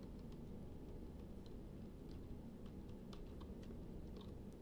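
Quick, light tapping on a computer keyboard, a loose run of faint clicks at an uneven pace over steady low room hum.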